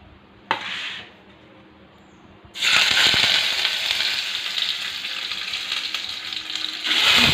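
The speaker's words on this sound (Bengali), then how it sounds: "ডিমগুলো আমি দিয়ে দিয়েছি একটু সিমে করে, যাতে আস্তে আস্তে করে ভাজা হোক" Eggs hit hot oil seasoned with turmeric in a wok, a sharp crackle after a brief click, then a loud, steady sizzle that swells again near the end.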